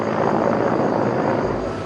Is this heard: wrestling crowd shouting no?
no